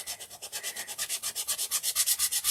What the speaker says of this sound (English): This stuff sands wonderfully, if you ask me.